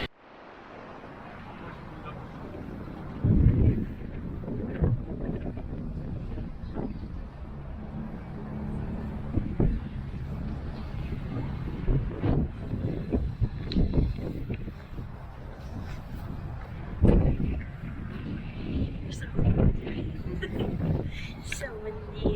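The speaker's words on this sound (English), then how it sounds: "So windy." Gusty wind buffeting the microphone in low rumbling surges outside the Tower of London, with people talking underneath and occasional louder blasts.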